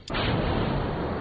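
A rocket engine ignites in Kerbal Space Program: a sharp onset burst that settles straight into a loud, steady roar filling the short clip.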